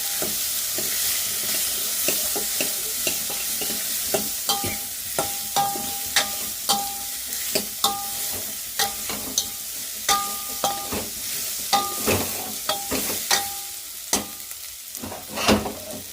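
Raw coconut frying with turmeric in a pan, a loud close sizzle under repeated sharp spatula scrapes and taps that come in a quickening rhythm, with no talking.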